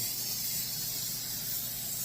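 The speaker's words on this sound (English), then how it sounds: "you can either brush it with olive oil or spray it. But make sure you spray them really good." Olive oil is sprayed from a spray bottle onto taquitos before baking, a soft, steady hiss lasting a couple of seconds, quiet and alone.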